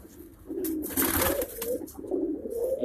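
A female Firozpuri pigeon coos close by, soft low throaty calls rolling on in repeated bursts over faint background noise, with no talking.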